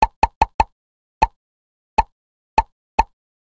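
Bubbles pop one after another when tapped in a toddler learning video game: eight crisp plops, four in quick succession, then slower, spaced pops, close and clear against silence.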